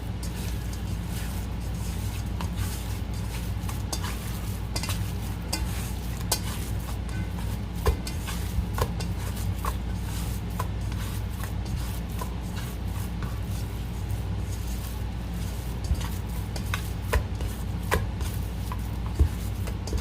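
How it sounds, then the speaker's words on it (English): Ground meat for jalapeño poppers is mixed by hand in a bowl, a continuous soft squishing and rubbing with occasional light taps, close and steady without talk. "Just get in there and mix the meat up."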